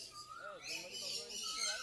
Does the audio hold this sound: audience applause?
no